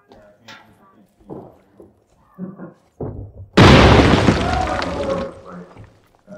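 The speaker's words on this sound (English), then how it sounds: "Grenade going out." A grenade detonates in the Warzone video game, a sudden loud boom with a crackling, debris-filled tail that fades over a couple of seconds, preceded by scattered game sounds and players talking.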